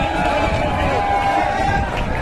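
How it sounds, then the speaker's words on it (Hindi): At an outdoor farmers' rally, a large crowd greets dancer Sapna Choudhary with a loud, continuous roar of clapping and cheering mixed with voices and background music. "जोरदार तालियों के साथ स्वागत अभिनंदन"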